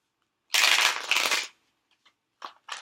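A brisk riffle of tarot cards is shuffled up close for about a second, followed by a few soft taps and slides of cards.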